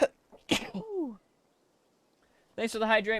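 A single sharp sneeze bursts out at close range at the start, followed by talk and a short gap before more speaking voices return.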